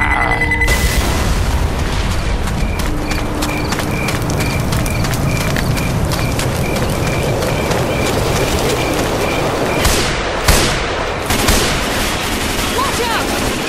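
A grenade goes off in Left 4 Dead 2 amid loud, dense game noise, with rapid gunfire and booming blasts layered over a continuous roar and a sharp burst near the end.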